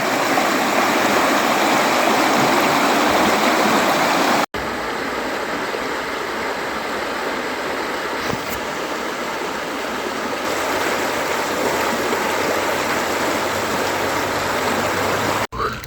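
Steady rushing of a flowing stream near Mukachevo in Zakarpattia, Ukraine, a continuous broadband wash of water close by, with no speech over it.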